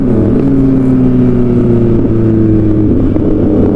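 A Yamaha MT-07 motorcycle exhaust drones loud and steady, its engine note holding with slight pitch shifts throughout.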